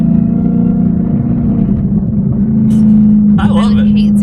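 A Dodge Hellcat with a muffler delete idles with a deep, loud droning rumble, then the engine rises slightly into a brief rev near the end while people talk over it.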